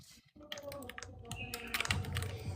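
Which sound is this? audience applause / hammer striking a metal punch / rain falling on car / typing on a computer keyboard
typing on a computer keyboard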